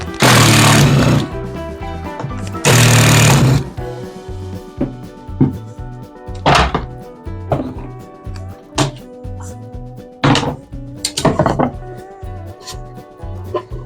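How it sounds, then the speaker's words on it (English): Saw cutting miters in birdhouse wood pieces: two loud, roughly one-second cuts close by, followed by scattered knocks and clatter of the wood being handled. "I just need to cut the miters here."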